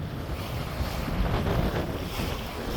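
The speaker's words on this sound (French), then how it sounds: "On va faire écouter le vent un peu." Strong wind blows across a sailboat at sea, roaring steadily into the microphone with the wash of waves, loud and continuous.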